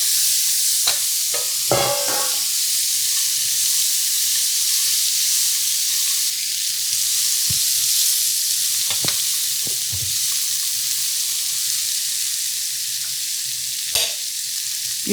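Butter-braised onions sizzle in an All-Clad French skillet, giving a steady close frying hiss throughout with occasional clacks and scrapes of stirring and no talk.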